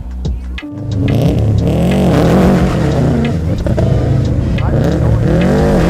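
Hillclimb race car running on E85 fuel, its engine revving hard and loud up close with rising and falling pitch sweeps, continuous throughout after a brief quieter start.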